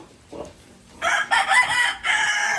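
Chickens, including a mother hen, cluck softly, then a rooster crows loudly twice in long drawn-out calls, close by.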